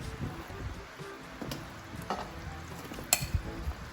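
Quiet scraping and stirring of buko (young coconut) salad in a pot, with occasional soft clinks of a spoon against the side, a little louder near the end.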